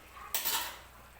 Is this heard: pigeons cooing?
no